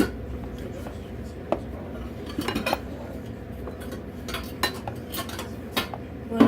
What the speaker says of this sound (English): You want to stir it very well.